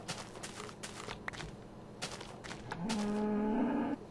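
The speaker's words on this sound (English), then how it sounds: "Cow." A cow in Minecraft lets out a single drawn-out, fairly loud moo near the end, after a stretch of busy game noise and tapping sounds.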